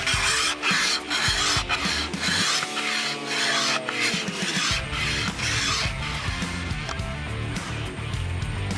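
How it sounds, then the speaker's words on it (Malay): Repeated rasping scrapes of a blade drawn along a bamboo stick, steady and close, with a brief tonal ringing partway through and no talking. "ini buluh yang kita kikis seperti ini"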